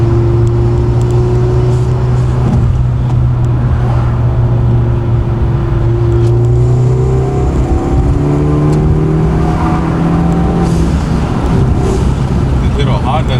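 A turbocharged, modified Hyundai engine revs and accelerates up through its range, loud and close, with the pitch climbing steadily and road noise underneath.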